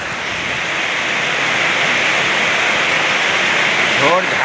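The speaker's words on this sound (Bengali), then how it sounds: "ঝোড় ঝাড় বৃষ্টি দিচ্ছে" Heavy wind-driven rain roars as a dense, steady wash of noise that swells slightly, with a voice breaking in briefly at the end.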